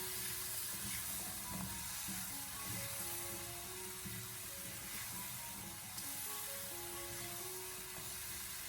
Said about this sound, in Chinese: 然后再继续的开大火翻炒一下，将其翻炒均匀，把所有食材炒出香味